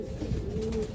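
A racing pigeon hen coos softly inside a loft, a low, steady murmur held for about a second, close to the microphone with faint background rustle.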